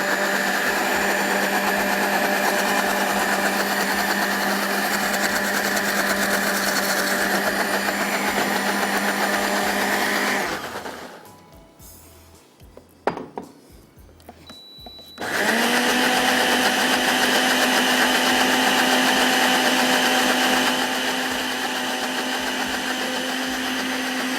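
An electric grinder whirs loudly and steadily while grinding masala spices, cuts out for a few seconds partway through, then starts up again at full speed.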